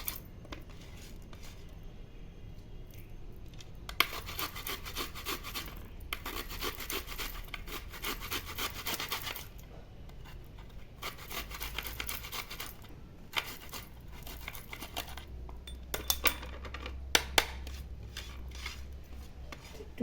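Mosambi lemon peel rubbed over a grater in a home kitchen, producing soft repeated scratchy rasping strokes in several bursts, with occasional light metallic clinks and pauses between passes.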